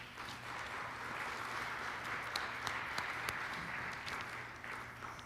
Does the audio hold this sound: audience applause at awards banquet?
yes